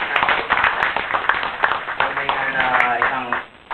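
A congregation at a church service claps in a dense burst of applause, close and sustained, with voices talking and calling out over the clapping.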